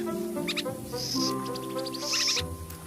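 Hungry owl chick calling in a nest, a run of thin high chirping and hissing calls repeating in short bursts over a steady low background, close and fairly loud.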